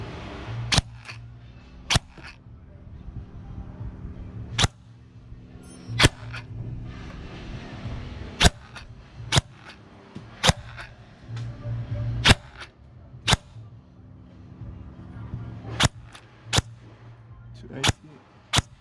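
A KWA Ronin T6 airsoft electric gun fires sharp single shots during a velocity test, about a dozen crisp cracks spaced irregularly over a low background hum, with faint handling noise in between.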